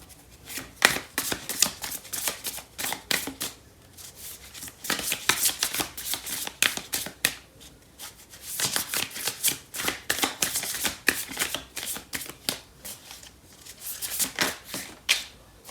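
Tarot cards from the Light Seers and Lovers Oracle decks shuffled by hand, repeated bursts of crisp riffling and slapping close by, coming in rhythmic runs separated by short pauses.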